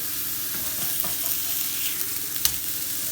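Bacon burger patties frying in a pan, a steady, close, hissing sizzle with faint scraping and a brief clink, without talk.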